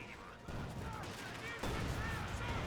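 Bursts of MG42 machine-gun fire and other gunshots in the video game Company of Heroes 2, sounding as stacked rapid reports over a busy battle bed that grows louder partway through.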